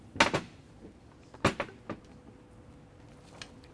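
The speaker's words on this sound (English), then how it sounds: "So you'll tap that all the way home." A few sharp taps seat the keepers into the lower pump section of a Graco Xtreme airless sprayer: two quick knocks, then a pair near the middle and a single light tap, fairly close with quiet between.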